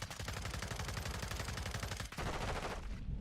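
P90 SMG firing in Modern Warfare 2 beta gameplay: a loud, close, continuous rapid-fire burst of evenly spaced shots, briefly breaking and resuming before cutting off into a short decaying tail.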